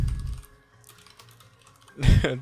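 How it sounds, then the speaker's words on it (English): Fast clattering keystrokes on a computer keyboard while a player types custom text into the Scarlet Hollow game, in short bursts with a pause between, ending in a louder flurry of keys over game music. "you can actually type whatever you want"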